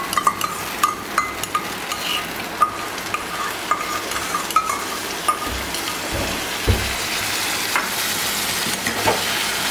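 Sour yogurt is stirred into a potol (pointed gourd) curry in a pan, with a steady sizzle under repeated close clinks and scrapes of the spoon against the pan.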